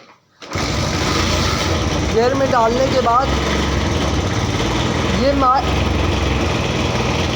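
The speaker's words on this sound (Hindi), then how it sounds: "अब ये मैं बाइक को जैसे स्टार्ट कर दिया है" A BS6 motorcycle engine idles steadily and loudly after a brief quiet start, a constant rattling drone with a few faint whiny pitch wobbles.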